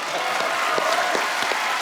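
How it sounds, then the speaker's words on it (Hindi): Studio audience at a comedy talk show clapping loudly and steadily, dense applause from many hands with no break. "मतलब जोरदार तालियां बनती है।"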